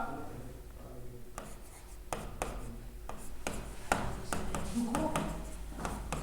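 Chalk or pen strikes a board in a grammar class, with a quick series of sharp taps and scratchy strokes in uneven bursts, close and fairly faint, while a voice speaks softly underneath.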